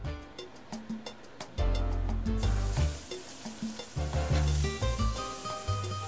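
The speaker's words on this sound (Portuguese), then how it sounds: "o prato começa com um pouquinho de óleo, azeite, né? Depois se mistura a cebola" Onion frying in oil as the base for Cuban fried rice, a steady close sizzle that swells louder partway through, with intermittent stirring knocks and scrapes on the pan and no talk.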